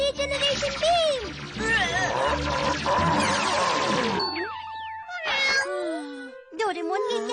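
Cartoon cat meows loudly and repeatedly in an animated Doraemon episode, drawn-out wavering cries mixed with bright sound effects and character voices.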